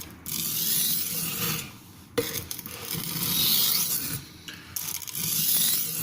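A knife edge is rasped against a sharpening stone to distress it, a steady close gritty scraping in long strokes with brief pauses between passes, no voices.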